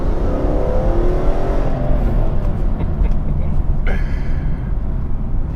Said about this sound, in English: Now it's a 340 horsepower straight 6 naturally aspirated petrol engine, and it is a gem.